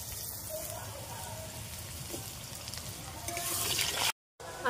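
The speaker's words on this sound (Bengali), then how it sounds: "আলুটা না ভেজে নিলে হবে না, ওই জন্য আলুটা ভেজে নিচ্ছি" Potato pieces frying in oil give a soft, steady crackling sizzle up close, swelling slightly toward the end before a brief dropout.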